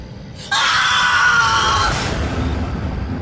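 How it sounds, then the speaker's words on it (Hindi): A sudden loud scream used as a horror-story sound effect, bursting in sharply, holding for over a second, then fading into a reverberant tail. "मैंने जैसे ही फर्स्ट एड बॉक्स निकालने के लिए अलमारी खोली तो मेरे गले से चीख निकल गई"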